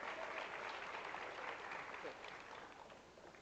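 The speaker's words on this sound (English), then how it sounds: "Please give them a round of applause." Faint, distant applause from a conference audience greeting panel speakers, a steady wash of clapping that tapers slightly toward the end, with some talk mixed in.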